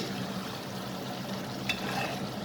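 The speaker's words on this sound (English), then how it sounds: "Just make sure that you don't break the brinjal when you're turning it up. So stir it gently" Stuffed brinjal curry with masala is gently stirred in a frying pan, giving a soft, steady sizzle and faint scraping, with one brief clink partway through.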